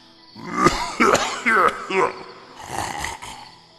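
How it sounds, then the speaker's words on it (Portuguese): A harsh, wet throat clearing with rough, guttural hacking bursts, close and loud, repeated several times before a noisier rasp trails off. "o grasnado veio seguido de um pigarro nauseante"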